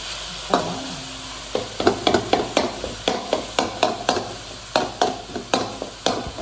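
Chicken shawarma fries in a pan with a soft steady sizzle, punctuated by a regular run of sharp taps and scrapes from stirring; close and no voices.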